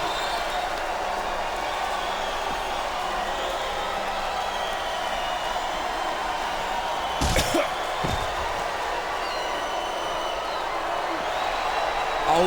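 Capacity arena crowd at the WWE Backlash 2007 Last Man Standing wrestling match, a continuous roar of cheering and chanting filling the background, with a couple of sharp slams partway through and commentators talking over it.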